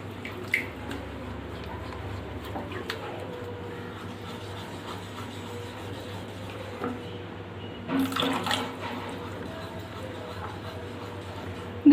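Water poured and trickling into a white sauce for a chicken corn quiche in a kitchen, a soft continuous pouring and dripping with a louder splash burst midway and a low hum underneath.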